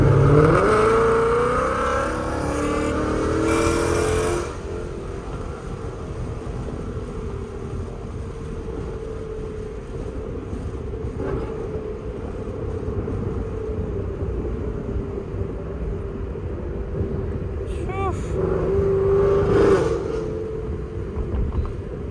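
A straight-piped 5.0 car with a Corsa Extreme exhaust, driven late at night, gives a loud rev at the start, settles into a steady droning cruise, then blips the throttle again near the end.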